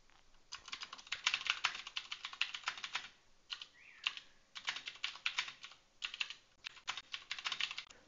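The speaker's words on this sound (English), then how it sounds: "So let's type another prompt into here." Typing a ChatGPT prompt on a computer keyboard, heard as close, crisp bursts of rapid key clacks separated by short pauses, with no one speaking.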